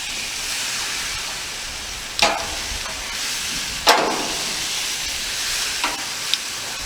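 London broil steak cooking on a grill gives off a continuous close hiss and sizzle, broken by a couple of louder bursts of spitting steam as the meat is handled.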